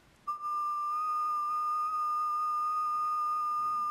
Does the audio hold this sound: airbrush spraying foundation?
no